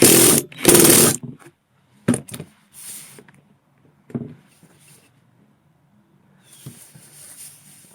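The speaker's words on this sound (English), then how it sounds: "try to drill it in without breaking the wood" A hand drill bites into wood on a sword build in a few loud bursts, followed by scattered quieter clicks and handling noises, with a low whir returning near the end.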